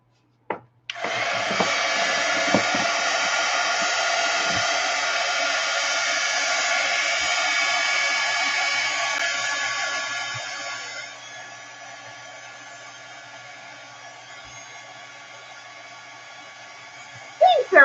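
A hair dryer blows across a mixed media painting of inks and rice paper collage, a steady high whine starting abruptly, running for about ten seconds, then dropping to a softer setting, with light handling noises.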